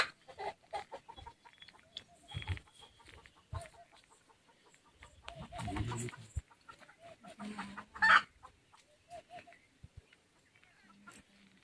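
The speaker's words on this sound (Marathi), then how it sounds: "तर या आपल्या कोंबड्या" Free-range village chickens cluck softly in scattered bursts on a farm, with faint rustling and occasional louder squawks, fairly quiet and close.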